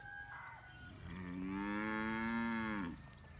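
A cow lets out one long, fairly close moo in a pen after a hurricane in Jamaica, a low drawn-out call lasting over a second against a steady background hum.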